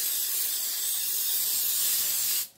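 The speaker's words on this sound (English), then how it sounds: "So you just give it a generous amount of spray." A steady, loud hiss of cooking spray sprayed onto aluminum foil, lasting over two seconds, then cutting off abruptly.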